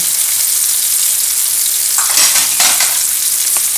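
Chapli kababs sizzle steadily in hot oil in a pan, a continuous close frying hiss with brief louder crackling bursts partway through and no voices.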